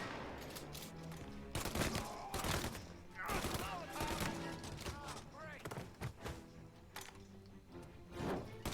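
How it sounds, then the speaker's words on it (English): Tommy gun gunfire in Mafia: Definitive Edition, several loud bursts of automatic fire with sharp thuds and echoes, recurring irregularly across the scene over low background game sound. "The Tommy gun is surprisingly accurate as like a sniper rifle"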